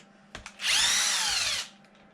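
A power drill backs a screw out of a Traxxas XRT RC truck in one close, steady whine lasting about a second, with a couple of soft knocks just before it.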